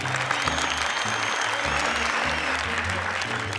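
A game-show audience applauds continuously, a close, even rush of many clapping hands that runs the whole time, with a low, faint music or hum beneath it.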